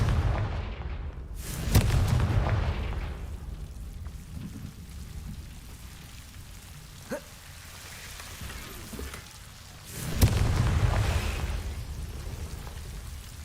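Confringo blasting-spell explosions in the video game Hogwarts Legacy: two loud booming blasts several seconds apart, each with a rumbling tail, over a rain-like background hiss.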